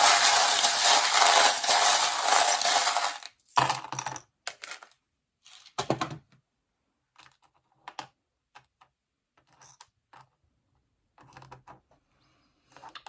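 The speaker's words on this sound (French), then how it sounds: "je fais un tirage avec les breloques." Small metal charms rattle and clatter in a sustained shaking burst, then get dropped and scattered in short sharp clinks and taps with pauses between them, close and clear with no voices, during a fortune-telling draw.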